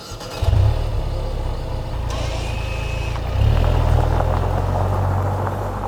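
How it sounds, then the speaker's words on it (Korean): A Mercedes-Benz GLA 220 diesel engine fires up and settles into a steady, fairly loud idle with a throaty exhaust note, swelling once more partway through as the revs rise briefly. "처음에 시동 걸 때 엔진음이"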